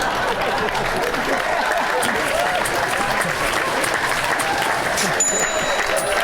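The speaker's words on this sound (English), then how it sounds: "Give him a little round of applause." A studio audience claps steadily for a comedy show guest, a dense, even wash of applause that holds at full level for about six seconds with some background voices mixed in.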